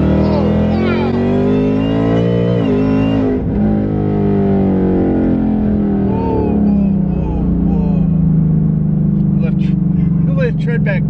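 Supercharged 2019 Mustang with a VMP Odin supercharger and smaller pulley, accelerating hard after a downshift; a loud rising engine roar sweeps upward through the gears, close up inside the car, with supercharger whine and voices talking over it.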